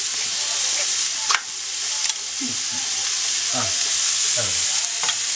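Curry sauce and rice stirred together in a pan, a steady sizzle with a few scraping strokes of the utensil at irregular intervals, close and continuous without talk.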